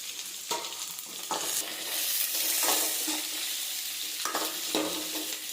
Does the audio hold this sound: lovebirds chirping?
no